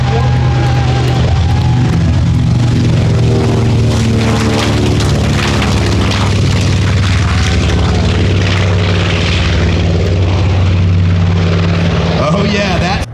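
Warbird propeller aircraft from the Lost Coast Warbirds flying at a redwoods airshow, its loud, steady engine drone and propeller hum filling the whole stretch with harmonic bands, while a crowd and announcer-style voices sound faintly underneath.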